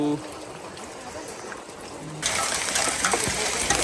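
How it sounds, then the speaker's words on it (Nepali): Hailstones fall on the Mundum trekking trail on the Bhojpur–Khotang border in Nepal, starting as a soft patter, then surging into a dense, loud, steady hiss of impacts, with voices nearby. "सबै असिना हो।"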